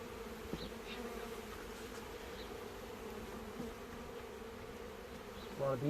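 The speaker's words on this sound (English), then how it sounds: "All the bees flying around." Honeybees buzz steadily around an opened box of bees outdoors in the heat, a dense, continuous close drone that holds throughout without speech.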